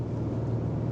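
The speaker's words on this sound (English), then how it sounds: "as soon as I put my foot down a little bit, it finds the right gear and away I go" An Acura RDX all-wheel-drive luxury SUV pulls away under throttle, its engine a steady low rumble from inside the cabin as the transmission drops into the right gear.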